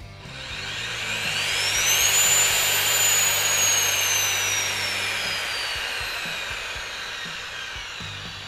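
A Fein Slugger JMC Magforce 90 compact magnetic drill running its cutter, a loud close whine that rises in pitch as it spins up, holds steady, then slowly winds down over a low motor rumble.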